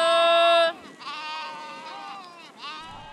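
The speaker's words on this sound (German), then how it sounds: "Schafe." Sheep on a heath pasture bleat: one loud, close, drawn-out call, then several quieter, wavering bleats from the flock overlapping one another.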